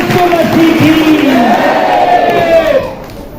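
A church congregation claps and cheers together in praise, a loud, dense crowd roar with voices rising and falling that stays steady, then eases slightly near the end.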